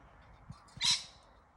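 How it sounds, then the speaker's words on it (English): A wild bird in a garden gives a single harsh, squawking call at moderate distance, brief and bright, preceded by a few faint low knocks and rustles in otherwise quiet outdoor air. "I thought you were fraternising with the wild birds."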